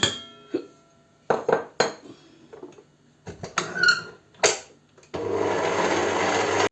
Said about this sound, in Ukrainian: Коли білки збилися, додаємо сюди крохмаль, 75 грам крохмалю. І легенько його розмішаємо.